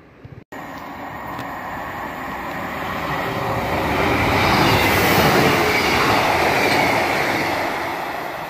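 Class 153 diesel trains pass at Dronfield station, a loud close rush of wheels and rail noise that swells to a peak midway and slowly eases, with no talk.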